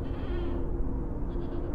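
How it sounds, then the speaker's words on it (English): Mountain goats bleating in a cold, windy cave setting, a steady nasal cry with a strong tonal hum, close and loud, lasting nearly two seconds without pause. "then you hear"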